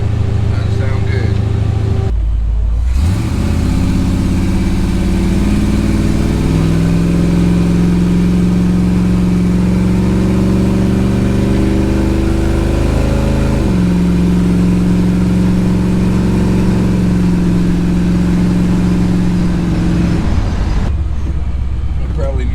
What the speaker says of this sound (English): And that big block sound.